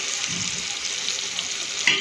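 Spoon stirring red chili powder into a sizzling mixture in a pan while cooking Rajasthani dal baati, a steady close frying hiss with soft scraping and a brief sharper clink near the end.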